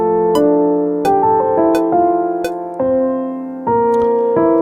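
Unprocessed piano without EQ in a Cubase mix of an Indian fusion song plays sustained chords, a handful of struck notes ringing out clean and close with no voice over it.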